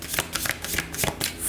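Tarot cards shuffled by hand in a quick run of crisp riffling and flicking bursts, close and moderately loud, with no talking over them.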